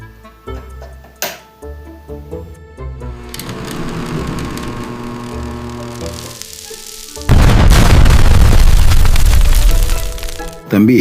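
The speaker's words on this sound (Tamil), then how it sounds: "சீலிங் ஃபேன் வெடிச்சு இன்னைக்கு தான்ப்பா பார்க்குறேன்." A ceiling fan switched on and bursting apart, a sudden loud, broad crash that holds as harsh roaring noise for several seconds after quieter clatter and background sounds.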